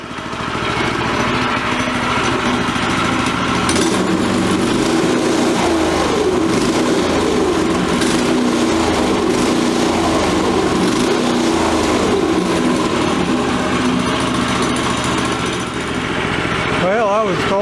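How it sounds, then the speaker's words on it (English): Predator small engine on a Briggs-style buckboard flyer set up on blocks, running steadily at close range with a smooth, continuous buzzing drone and slight throttle changes. "I was told that the Predator motor would be smoother, and I believe it is. It's quite a bit smoother."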